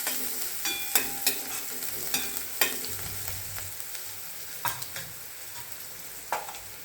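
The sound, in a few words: onion frying in a pan until slightly browned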